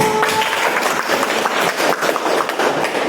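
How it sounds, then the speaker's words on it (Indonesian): A classroom full of people clapping, dense and steady, loud throughout with no pause. "Tepuk tangan dulu."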